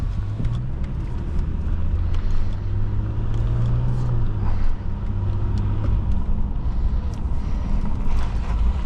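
A 2006 Subaru B9 Tribeca SUV cruises with a low, steady engine drone and road rumble heard from inside the cabin, gently shifting in pitch as it accelerates, with faint road noise and no talk.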